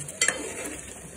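A spoon scrapes and stirs thick masala for stuffed brinjal curry in a pan, with a couple of brief scraping strokes over a faint, quiet background.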